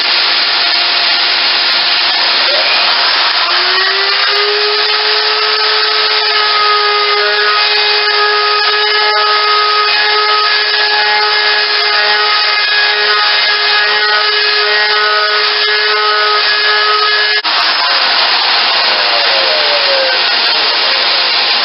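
Small router table cutting the edge of a wooden piece indoors: loud steady high-pitched motor whine that rises as it spins up, holds for about fifteen seconds, then winds down, close and alone.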